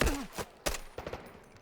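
Delta Force game gunfire: several sharp, separate shots in quick succession, moderately close and fairly quiet, with no talking.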